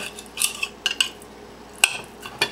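Knife slicing raw liver into strips on a board for a Moroccan liver stew, a few sharp close taps and scrapes spaced irregularly, moderately loud, with no voices.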